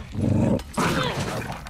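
A dog growls in The Last of Us Part 2 video game, two close, loud, rough snarling bursts separated by a brief pause.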